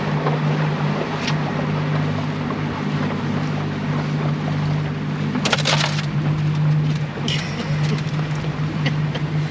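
A powerboat cruising at 18 knots off San Juan Island, Washington gives a loud, steady engine drone with rushing wind and water noise, with a few sharp splashes or gusts breaking through partway along.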